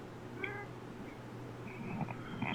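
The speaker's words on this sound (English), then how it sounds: "I hear Kitty." A cat meows faintly a few times in the background, short rising cries over a steady low room hum with no talking.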